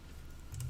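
A computer keyboard is pressed a couple of times in a quick pair of soft, close clicks near the end, over a quiet low room hum with no talking.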